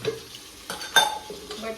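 Oil and butter crackle and sizzle in a pot as tempering for chicken biryani begins, with a few stirring clinks of utensils against the pan over a short moment.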